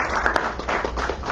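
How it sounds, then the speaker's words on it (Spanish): A brief burst of applause fills a book presentation event, with many hands clapping close and steady for just over a second and no speech over it. "mi aplauso para ustedes"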